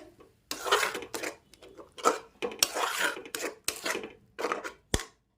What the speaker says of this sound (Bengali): আর একটু দই আছে এর মধ্যে দিয়ে দেব এবারে এটাকে নাড়িয়ে যেতে হবে কন্টিনিউ